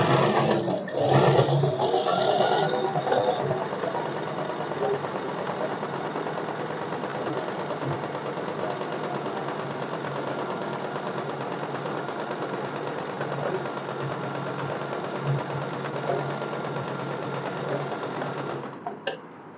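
Sewing machine running steadily while stitching two layers of a co-ord set outfit, a continuous close mechanical whir with a brief busier start, holding at even loudness for nearly twenty seconds with no talking.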